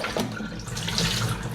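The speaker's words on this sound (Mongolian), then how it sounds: "За энэ усыг асгая даа" Water poured from a container in a home kitchen, a steady close splashing stream that runs for the whole moment with no talk.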